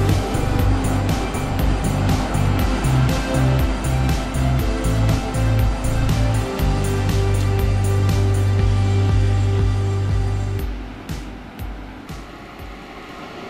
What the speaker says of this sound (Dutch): Ja, en het regent nu pijpenstelen.